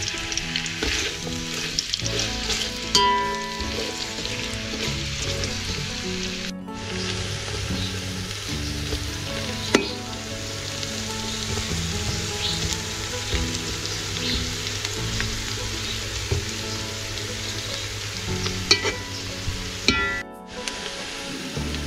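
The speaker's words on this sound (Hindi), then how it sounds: "प्याज को ऑयल में फ्राई करेंगे।" Two large onions frying in hot oil, a steady close sizzle with occasional stirring scrapes, running continuously without talk.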